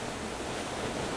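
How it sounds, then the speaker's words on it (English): Ocean waves surging against a deep rock wall on the Madeira coast, a steady broad wash of surf and spray with wind noise, close and continuous without distinct individual crashes. "when the waves crash here, it creates this jump of water"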